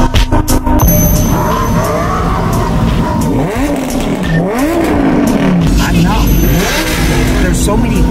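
Loud cars rev and accelerate at the Caffeine and Octane car show in Atlanta, with engine pitch sweeping up and down and brief tire squeals over a dense crowd din, and people talking throughout.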